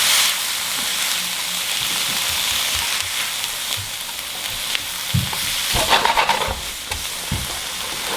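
Rice sizzles and crackles as it fries in butter for Japanese-style fried rice, a steady close hiss with occasional stirring scrapes and bumps from the pan.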